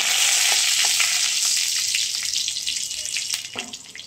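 Dry red chillies and whole spices hit hot oil for tempering, making a loud, dense crackling sizzle with scattered pops. The sound gradually softens over a few seconds, and there is no speech.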